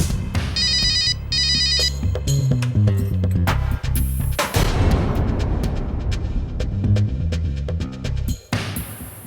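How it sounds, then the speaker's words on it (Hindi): A phone rings with an incoming call, its electronic ringtone melody playing loudly and continuously for several seconds in an indoor drama scene, ending abruptly near the close. "मैंने कहा था कि विक्रम का फोन आएगा"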